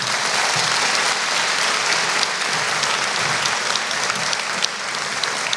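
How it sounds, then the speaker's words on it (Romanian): Steady, even applause from students at a festive final chemistry lecture honoring their professor, a continuous wash of many hands clapping that stays level for several seconds, with no speech over it. "vă invit să o aplaudăm încă o dată pe doamna profesoară"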